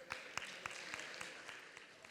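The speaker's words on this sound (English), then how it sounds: "Please welcome His Excellency with a warm round of applause." A luncheon audience applauds at a formal forum event in Taiwan, a steady wash of many hands clapping with scattered sharper claps standing out, moderately distant and fairly quiet.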